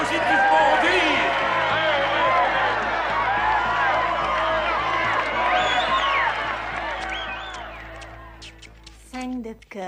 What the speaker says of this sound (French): Écoutez, la foule est positivement en délire